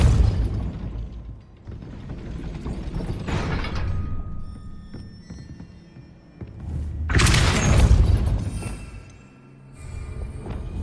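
A gate mechanism grinding and rumbling upward after a Depulso spell in Hogwarts Legacy, heavy mechanical rattling that swells twice into loud booming surges, with no talk.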